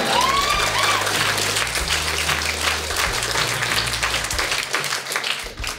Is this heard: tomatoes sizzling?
no